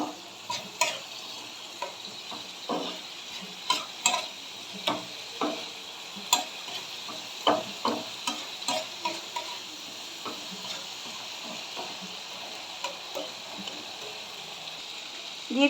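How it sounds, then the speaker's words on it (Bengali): Onion, ginger-garlic paste and tomato stir-frying in a pan: a continuous gentle sizzle with repeated scraping and tapping spoon strokes at a steady, unhurried rhythm. "একটু ভালো করে কষিয়ে দিতে হবে এখন।"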